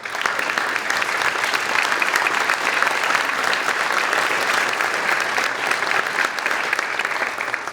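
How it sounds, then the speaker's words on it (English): An audience at a school district awards event gives a full, continuous round of applause for the Turnaround Committee. The many hands clap evenly and loudly for about eight seconds, with no one speaking over it. "if you would just stand up so we can applaud for your help"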